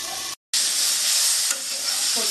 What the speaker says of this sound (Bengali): সবজিটা আমার মোটামুটি ভাজা হয়ে এসছে।